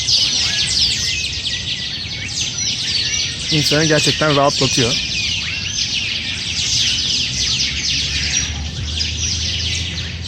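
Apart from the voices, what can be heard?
birds chirping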